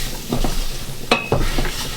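Roux of flour and butter for a white sauce cooking in a pan, a close steady sizzle broken by a few quick scraping stirs and a light utensil tap.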